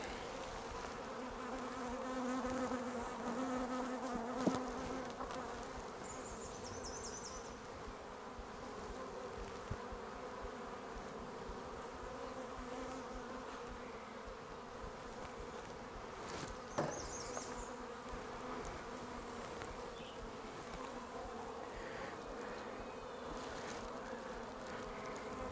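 Bees buzzing around opened beehives during an inspection three weeks after installation, a faint, steady insect hum with a few brief louder bumps close by, and no voices.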